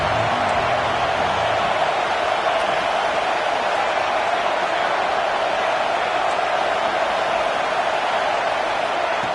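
Auburn football stadium crowd cheering on third down: a steady, dense roar of many voices fills the whole stretch at an even, loud level.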